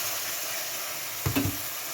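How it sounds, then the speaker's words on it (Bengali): Cumin, panch phoron, bay leaf, dried chilli and grated ginger fry in hot oil in a wok, giving a steady soft sizzle with one brief stirring scrape near the end. "কড়াইয়ে তেল দিয়েছি, জিরের ফোড়ন, একটু পাঁচ ফোড়ন, একটু তেজপাতা, শুকনো লঙ্কার একটু নুন মিষ্টি দিয়ে আর একটু আদা কোড়া দিয়ে এটাকে নাড়ছি।"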